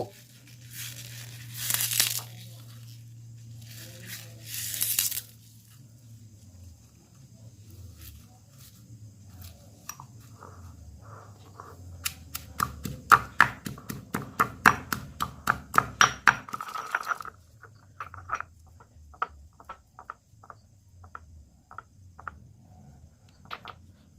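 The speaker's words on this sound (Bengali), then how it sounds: "এবারে এই পেঁয়াজকলিগুলি একটি হামালদিস্তায় রেখে যতটা সম্ভব বেশ সুন্দর করে থেতো করে নেব" Fresh onion stalks are pounded in a mortar and pestle, a rapid run of sharp crushing thuds and crunches that speeds up in the middle, with a few brief rustles beforehand and quieter taps trailing off.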